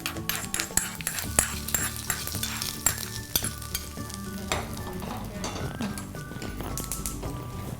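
Cashews and mustard seeds fry in hot tempering oil for mosaranna, a steady crackling sizzle broken by repeated clinks and scrapes of a spoon stirring the pan, close and continuous.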